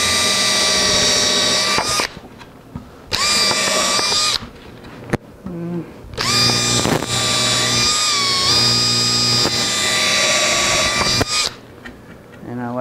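A power drill bores a 1/8 inch pilot hole into Baltic birch in a workshop, running in several loud, close bursts of whining spin separated by short pauses.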